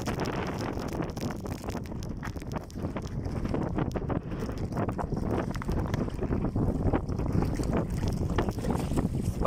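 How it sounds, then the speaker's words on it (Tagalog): Strong gusts of northeast monsoon wind batter the microphone on a fishing trip in loud, rumbling bursts, rising and falling continuously with no voices heard. "Napansin nyo, lakas ng bugso ng hangin."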